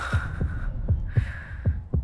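A heartbeat sound effect thumps in steady double beats, about six in two seconds, loud and close with a faint hum behind it and no voices.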